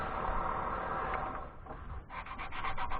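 True Grit friction polish rubbed onto a piece of turned wood on a lathe gives a faint, steady rubbing hiss that breaks into quick rhythmic strokes toward the end.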